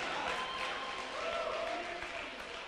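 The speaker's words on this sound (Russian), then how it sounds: "Бурные овации, дамы и господа!" Applause from a live concert audience at Monte Kristo, a steady wash of clapping held at a moderate distance and fairly faint throughout.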